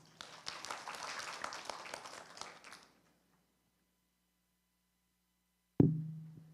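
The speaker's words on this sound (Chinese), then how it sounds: "我们掌声欢迎" Applause at a seminar on integrated care for older people welcoming a researcher, a few seconds of scattered clapping, fairly faint, fading to silence before a single sharp knock.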